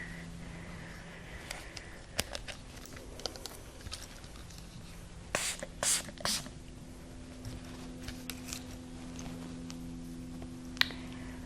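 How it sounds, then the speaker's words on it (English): Three quick hissing bursts of Eva NYC hair spray in close succession, sprayed onto brushed hair, among soft rustling and scattered clicks. "Spray some of the Eva NYC Main Magic."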